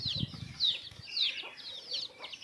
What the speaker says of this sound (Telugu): ఇంకా కడమ కోళ్ళు అయితే ఎంత చక్కగా బొరుతున్నాయి చూడండి.